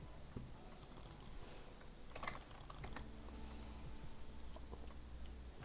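Quiet, rapid keystrokes patter on a computer keyboard, uneven in rhythm with a few sharper clicks, alone without talk.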